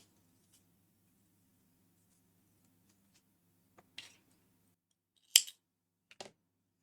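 Scissors snip white yarn during crochet work on a sweater. A few quiet, close snips come after a near-silent pause, with a sharper cut toward the end and one last small snip.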